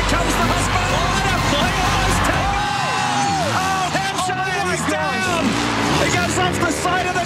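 Husqvarna motocross motorcycle racing past on a dirt track during a race, its loud engine roaring continuously and shifting pitch as it goes by, with crowd noise underneath.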